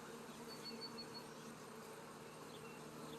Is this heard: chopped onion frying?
no